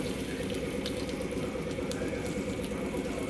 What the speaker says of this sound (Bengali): রসুনটাকে আমি একটু ভেজে হালকা ভাজা ভাজা করে নিচ্ছি